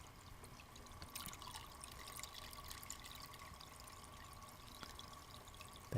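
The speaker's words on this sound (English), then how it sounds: "So we add a little bit more salt water." Salt water pours steadily into an 8-gallon nano saltwater aquarium during a water change, a continuous soft splashing trickle at close range with no talking.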